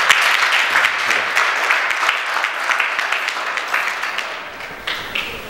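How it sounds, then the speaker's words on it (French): An audience at a solar-training certificate ceremony in Thiès applauds loudly, dense continuous clapping that holds steady for several seconds and fades slightly toward the end. "on peut l'applaudir vraiment fort"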